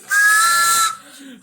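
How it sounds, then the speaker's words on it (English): A train whistle, held as one shrill steady blast of just under a second, then cut off abruptly into quiet. "let me blow that whistle,"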